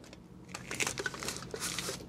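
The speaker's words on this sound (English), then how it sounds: "you can cap it with aluminum foil or a cap that comes with the mason jar" Aluminum foil crinkled by hand while capping a mason jar used as an insect kill jar; a short, close run of crisp, crackling rustles with a few sharper crackles, no voices.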